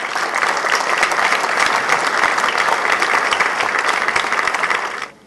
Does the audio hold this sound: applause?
yes